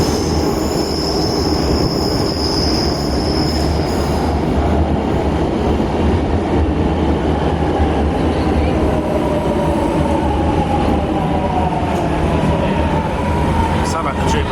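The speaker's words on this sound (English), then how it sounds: "Sound like the Jubilee trains." A metro train running underground on Milan's M3 line, a loud continuous rumble and roar with squealing wheels rising and falling throughout.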